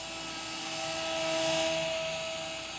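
A $10 HX 721 mini toy helicopter hovers indoors, giving off a thin, high electric whine from its small rotor and motor that swells slightly louder mid-way, steady and close.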